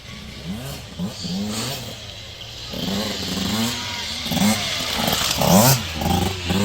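Several dirt bikes tear around a freshly built, previously unridden dirt course, engines revving and rising in repeated passes, moderately close and growing louder toward the end.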